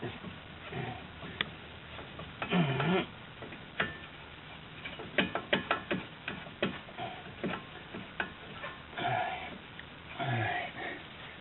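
A ratchet wrench tightens brake caliper bolts on a Mazda 6 in a run of quiet, close clicks and ticks, with soft handling noises and a faint voice in between.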